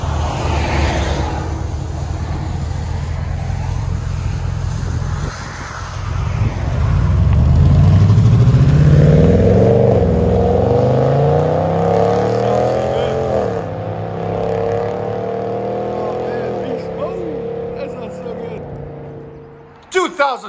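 A blacked-out Ram 1500 truck with a 5.7 liter Hemi V8 and aftermarket exhaust idles with a deep rumble, then revs up hard into a loud, rising roar that swells and falls back several times before cutting off.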